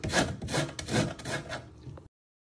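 Lemon zest is grated with a hand grater for a Christmas fruit cake, giving close, rhythmic rasping strokes, about five scrapes back and forth, before the sound stops abruptly.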